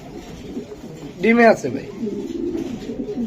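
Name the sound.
pigeons cooing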